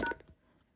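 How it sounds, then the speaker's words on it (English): A single DTMF keypad tone from pressing the 1 key on an RCA 25424RE1 telephone, a short clear beep with faint residual hum after it. "This is what it sounds like when we Press 1."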